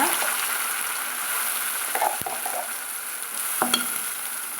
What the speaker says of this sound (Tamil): மசாலா வதக்கி விட்டுக்கலாங்க